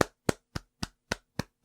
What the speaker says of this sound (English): I'll give you a round of applause.